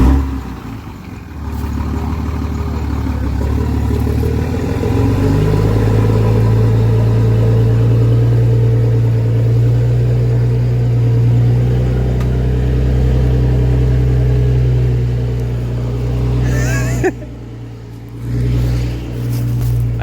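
A 2006 Cummins diesel truck fitted with an 8-inch axle dump exhaust and a 5-inch downpipe rumbles loudly and steadily. The deep drone pulls away and fades toward the end.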